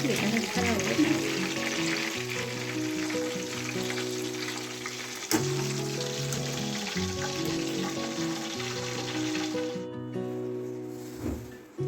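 Chicken 65 pieces sizzle steadily in hot refined oil in a nonstick pan, a continuous bright frying hiss under prominent background music for the whole stretch.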